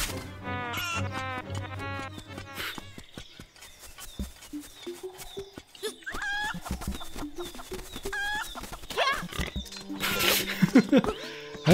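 Chicken clucking from the Link's Awakening video game sounds in a series of short, repeated electronic clucks mixed with game music and chiptune effects, with louder bursts near the end.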